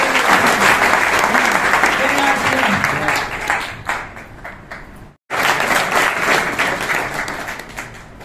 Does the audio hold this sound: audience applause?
yes